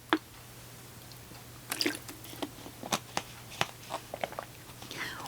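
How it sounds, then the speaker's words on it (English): Quiet sips and gulps from a glass of water, a string of short wet swallowing and lip sounds spaced irregularly over a faint steady hum, with no talking. "I've got to get a drink of water, folks."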